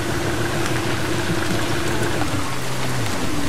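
Steady rain pouring in a horror video game mission, a dense, loud, continuous hiss of falling drops with a low rumble underneath, no voices.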